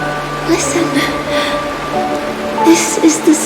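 Steady rain falls in a Honkai: Star Rail scene, a soft continuous patter beneath a sustained musical drone and a few scattered tonal chimes, with no voices.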